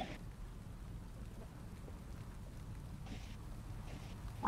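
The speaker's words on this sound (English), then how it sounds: "it's raining, right?" Rain falls in the cycling video game Zwift, in its Watopia world: a steady, soft hiss of rainfall runs throughout at low level, with no talk over it.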